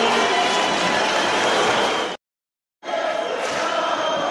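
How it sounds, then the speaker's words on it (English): Dense, steady roar of a boxing arena crowd at a professional minimumweight bout, loud and continuous, cut by a brief gap of silence before resuming. "Unfortunately, we'll have to compete with this crowd."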